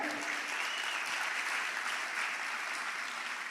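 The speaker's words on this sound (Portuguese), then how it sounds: "Dê um forte aplauso ao Senhor." Steady applause from a church congregation, a dense even wash of many hands clapping throughout with no voices standing out.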